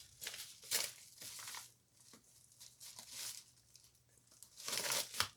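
Paper crinkles and tears as an envelope is ripped open, with bursts of rustling and tearing that come and go, loudest at the start and near the end, close and fairly faint.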